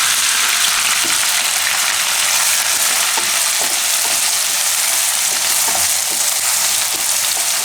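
Ginger, green chillies and garlic stirred in hot oil for a lilva odo, a loud, dense, continuous sizzle with faint spoon knocks scattered through it.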